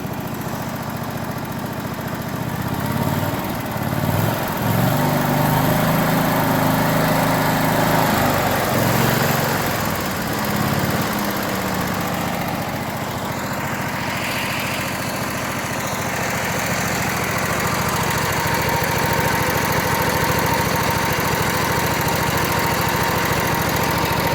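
A Briggs & Stratton small engine runs steadily for over twenty seconds with a loud, close, buzzing drone, the pitch shifting slightly as the carburettor mixture is adjusted.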